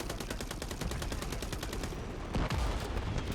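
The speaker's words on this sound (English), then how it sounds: "I'm shooting that helo down" Rapid automatic gunfire in the video game Call of Duty: Modern Warfare 3, aimed at a helicopter, hammers out as a fast, evenly spaced burst of loud shots, ending in a heavier blast.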